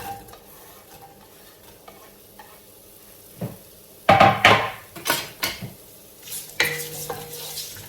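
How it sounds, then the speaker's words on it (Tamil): Chopped onions frying in a pot for homemade chicken biryani, a low steady sizzle punctuated by several sharp spoon scrapes and clanks from stirring, close by. "வெங்காயம் பொரியட்டும்."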